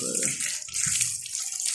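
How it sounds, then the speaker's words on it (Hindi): Water poured onto bricks to wet and cure them makes a continuous splashing, hissing flow that runs close and steady, with a lower gurgle joining partway through. "पानी मैं लगा रहा हूँ और आपको दिखा भी रहा हूँ कि किस तरह से तराई लगाई जाती है, किस तरह से ईंट गीली करते हैं"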